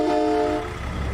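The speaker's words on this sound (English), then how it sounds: "You like the train horn there?" A train horn in American Truck Simulator blares a loud, sustained multi-tone chord that cuts off after about half a second, leaving a low rumble of driving beneath.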